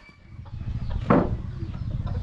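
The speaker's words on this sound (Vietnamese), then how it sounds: "Gà gì đấy? Gà tre." A bantam chicken clucks once, a short burst close by, among quiet farmyard sounds in a mountain village at Lunar New Year.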